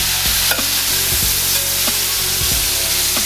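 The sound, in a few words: steaks browning in olive oil in a skillet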